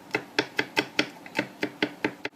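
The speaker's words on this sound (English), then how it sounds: "Bits there we're just going to chop. It's not the knife for the job, but it'll do." Nuts being chopped on a board with a knife that is not suited to the job, about ten firm, evenly spaced chops in a quick rhythm, close and clear with no talking.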